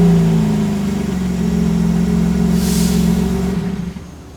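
A BMW G80 M3 idles with a steady, loud mid-range engine hum, then winds down and cuts off near the end as it is switched off with the start button.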